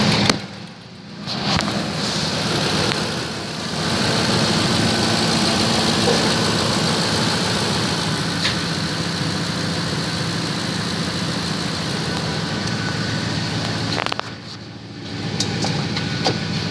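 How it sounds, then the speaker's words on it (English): A 2006 Ford F-150 XLT pickup truck idles with a steady low rumble and a raspy, puffing exhaust note from an exhaust leak, close by, with a couple of brief dips in the sound. "Exhaust leak over here."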